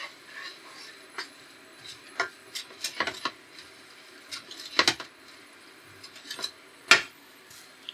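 Chopped walnuts are tossed and stirred in a pan for light toasting, giving scattered irregular clinks and scrapes of nuts and utensil against metal, fairly close and without talk.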